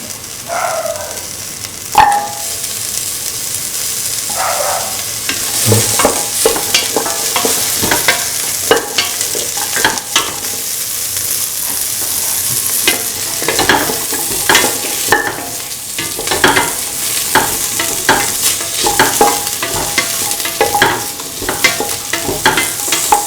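Carrot pieces are stirred and fried in a pan for an egg, soya chunk and coconut milk stew, with a steady sizzle and repeated scraping stir strokes throughout, close and fairly loud, no talking.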